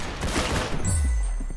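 A burst of rapid automatic gunfire from a machine gun in a Roblox shooter, dense close cracks running together for about a second and a half before cutting off.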